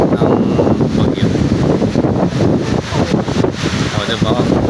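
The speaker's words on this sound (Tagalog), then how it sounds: "Yan ang hangin." Strong typhoon wind gusting, roaring and buffeting the microphone continuously outdoors at LRT Dr. Santos Station, Parañaque City, loud and close, with voices faintly mixed into the noise.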